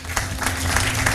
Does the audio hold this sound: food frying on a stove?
no